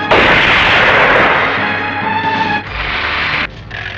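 A cannon fires in a 1998 Bollywood action film, a loud broad blast with a sustained roaring rumble that fades and shifts across several seconds, with no voices over it.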